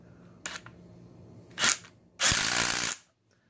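A DeWalt 12V sub-compact brushless 3/8-inch impact wrench drives a bolt in short bursts: a brief hammering burst, a second short rattle, then a longer loud impacting run that stops abruptly, close up with quiet gaps between.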